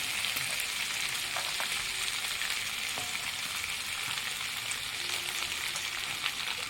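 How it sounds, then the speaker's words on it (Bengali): Rohu fish pieces frying in a spiced masala, a steady, dense sizzle that holds evenly throughout with no voices. "এবার আমি মা আজকে মাছ দিয়ে ছাঁকলে নেব"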